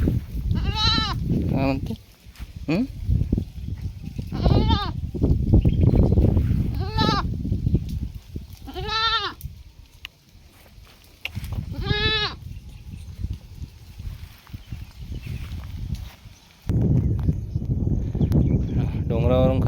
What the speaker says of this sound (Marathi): बकऱ्या भेटलेल्या आहेत मित्रांनो.